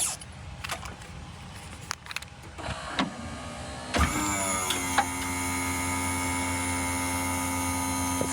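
Motorized lift powers up after a few scattered clicks and handling knocks, then settles into a steady electric motor whine and hum as it compresses gas struts, close and moderately loud.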